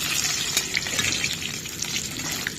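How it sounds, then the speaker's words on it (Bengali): Eggs frying in hot oil in a pan, giving a dense, steady crackling sizzle with faint bubbling and a few light spatters, close and continuous, with no one talking. "বন্ধুরা ডিমগুলো ভালো করে ভেজে নিয়েছি এবার আমি তুলে নেব"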